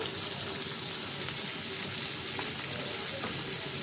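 Mixed small river fish frying in a pan, a dense continuous sizzle close by with faint occasional clicks, no talking.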